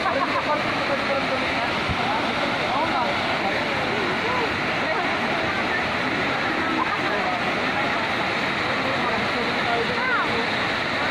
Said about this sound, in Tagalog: Yan guys yung falls.